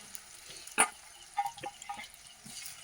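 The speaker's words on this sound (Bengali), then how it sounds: "ভাজা হচ্ছে, ভাজার তরকারিটা বসিয়ে দিচ্ছি" Cauliflower, carrot, onion and green chili fry in leftover oil from frying pangas fish, soft sizzling with a few brief clinks and stirring scrapes, fairly faint and close.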